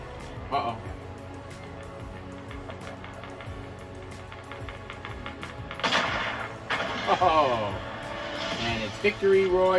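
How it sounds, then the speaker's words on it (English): Gunfire in the Fortnite video game, scattered sharp cracks and bursts of shots over a steady game backdrop, growing busier and louder in the second half, with a voice speaking at times. "And somebody's shooting."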